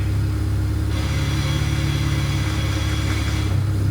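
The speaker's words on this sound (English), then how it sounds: "Is that clutch chatter?" A BMW fitted with a stage 4 competition clutch idles close by, its low engine rumble carrying a steady rapid rattling chatter with no one speaking.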